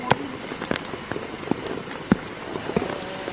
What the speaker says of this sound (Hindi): दूसरी तस्वीर जहाँ पर बारिश हो रही है